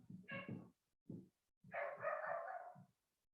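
A dog barks in a few short bursts, a quick pair, a single yelp, then a longer run of barks, all faint and some distance away.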